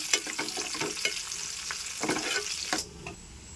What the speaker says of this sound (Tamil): இப்போ தேங்காவும் முந்திரி போட்டுக்கலாங்க. நல்லா பொன்னிறமாக வறுத்துக்கலாம்.